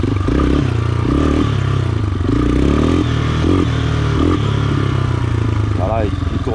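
A homemade quad bike's engine idles loud and close while running rich during break-in, a steady rough drone with a brief rev near the end, as someone talks over it.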